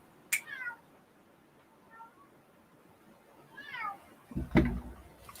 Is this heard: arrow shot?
no